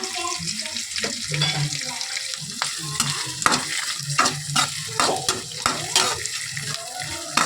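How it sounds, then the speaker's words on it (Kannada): Tomato and ginger fry in a pan for mutton sambar, a loud close sizzle punctuated by rhythmic spoon scrapes and clacks against the metal, repeating steadily throughout. "ಟೊಮೊಟೊ ಹಾಕ್ಕೊಂಡಿದ್ದೀನಿ ಸ್ವಲ್ಪ ಫ್ರೈ ಮಾಡ್ಕೊಳ್ಳೋಣ"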